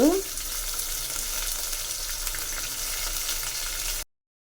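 Tomatoes fry for a drumstick curry, hissing and sizzling steadily in a pan at close range, with a brief scrape of stirring at the start before the sound cuts off abruptly.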